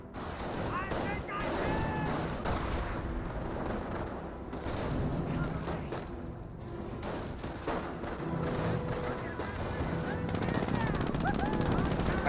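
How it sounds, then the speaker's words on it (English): Dense rifle and machine gun fire with thuds of explosions rattles continuously through a Company of Heroes battle between infantry squads, busy and loud, with a commentator talking over it. "Grenadiers receiving quite a bit of fire right there as these Rifleman squads are advancing"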